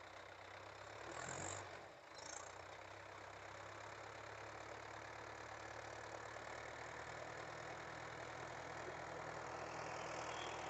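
A Mahindra Yuvo 475 tractor engine idles steadily and faintly at a distance, an even continuous drone with a brief rise early on.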